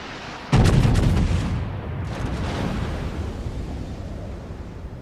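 Battleship Gneisenau in the World of Warships video game fires its main guns, a sudden loud booming salvo with a sharp onset that fades into a long rumbling roll.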